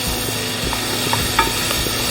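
Onions sizzle steadily in a pan as they are stirred now and then, a continuous close frying hiss with a few faint clicks and scrapes and no talking.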